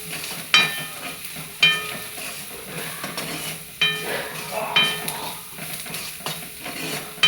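A salted mixture is stirred in a frying pan, with scraping strokes of the spoon that recur every second or so over a soft, steady sizzle.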